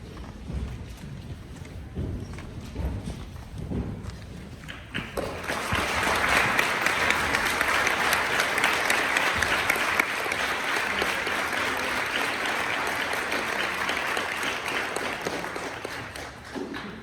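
Audience applause honoring veterans at a Veterans Day ceremony in Edgemont: after a few seconds of quieter room sound, steady, dense clapping swells and holds loud and sustained for over ten seconds before easing slightly.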